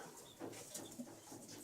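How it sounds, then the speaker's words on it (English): Pet birds in an indoor breeding room during breeding season chirp and coo in a steady busy chorus, several soft calls overlapping at close range with no talking. "We're back in the bird room today,"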